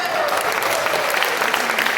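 An audience at a Hindi poetry gathering breaks into dense, sustained applause, steady loud clapping from a large crowd filling the room.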